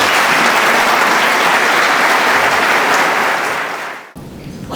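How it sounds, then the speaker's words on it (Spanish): Loud, dense audience applause at a book presentation event in Madrid, a thick continuous roar of clapping that stays strong before cutting off abruptly near the end. "voy a dar con un muy fuerte aplauso"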